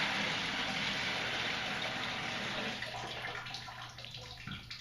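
Water pours out of a removed water filter housing being emptied, a steady broadband gush that stays loud and then thins slightly toward the end, with no talking.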